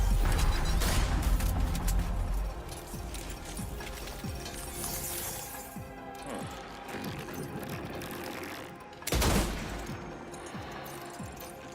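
Tranquilizer sniper rifle shots in Death Stranding 2, a loud shot at the start, then mechanical clicks and rattles of the weapon, and a second sharp crack near the end, over low ambient game sound.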